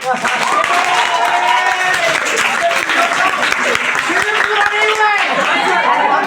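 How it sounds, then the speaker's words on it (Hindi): A Hindi class of 10th and 12th graders claps together on cue, dense, continuous clapping at close range with some chatter and voices mixed in. "अब ठोको ताली"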